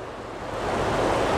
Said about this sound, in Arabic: فيه انحدار، فبتشوف المية نازلة